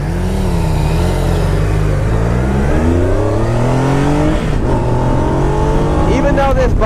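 A Triumph Trophy touring motorcycle with about 140 horsepower accelerating hard up a hill, the engine note climbing steadily through the gears, loud and close with heavy wind rush, with a rider's voice faintly under it.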